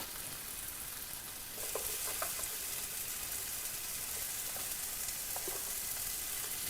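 Garlic fries in a pan for an anchovy dish with a faint, steady sizzle, and a few soft taps and stirring clicks can be heard.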